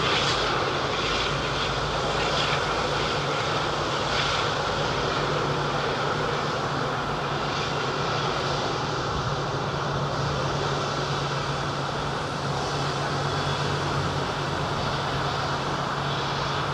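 A heavy airliner arrives at London Heathrow Airport, its jet engines a loud, sustained broadband roar with a steady low drone that holds for the whole stretch, heard from nearby without voices.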